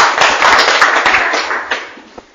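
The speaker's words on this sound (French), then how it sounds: "applaudis pour frère Ferrand" A church audience claps together in a loud, dense burst that slowly fades over a couple of seconds, ending in a few scattered claps.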